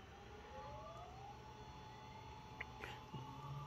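JZM6040 mill spindle on ceramic bearings spinning up toward 10,000 RPM, a quiet whine rising steadily in pitch over a constant low hum and airflow, with a faint click near the end, no talk.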